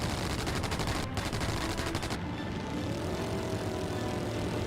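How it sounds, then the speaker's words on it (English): Aircraft machine guns rattle in rapid bursts during an aerial dogfight in the combat flight game Wings of War, the chattering fire layered over a steady droning engine and broken by a brief pause. "I'm deliberately using my guns instead of the rockets for these guys"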